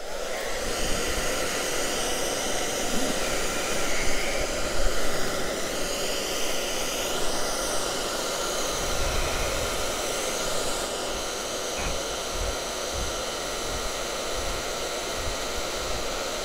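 A heat gun or hair dryer on low heat blows at an EV home charger and its heavy cord, giving a steady, close, whooshing airflow roar with a high whine that holds for over fifteen seconds without talk.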